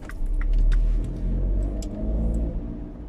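A car approaches along a road with a steady low rumble that swells and holds, nearby and alone, with no voices.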